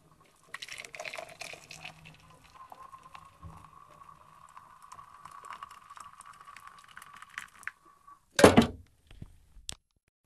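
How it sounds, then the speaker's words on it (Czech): Hot water is poured from a kettle over a tea bag in a mug, a thin steady trickling stream under quiet clinks, followed near the end by a short louder clatter. "Další hodně důležitá věc je ten čaj zalít."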